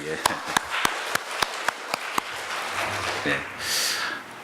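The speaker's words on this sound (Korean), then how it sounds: "우리 박수로 환영할까요?" A handful of sharp, evenly spaced claps ring out in a church service, welcoming a returning church member, with voices murmuring faintly underneath before the clapping fades.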